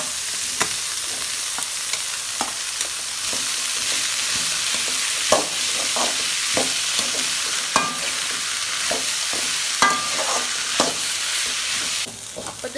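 Curry leaves and peeled onions sauté in oil in a pan for a garlic pickle, giving a steady close sizzle broken by repeated scrapes and clinks of a spoon stirring.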